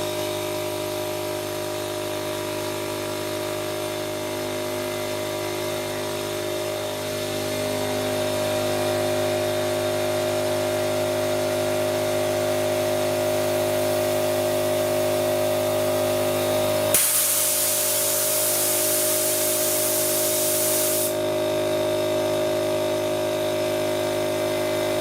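Air compressor running during AC repair on a 2007 Suzuki Forenza, a loud steady motor drone with strong tonal hum that thickens partway through, then a sudden hissing burst of air for several seconds before settling back.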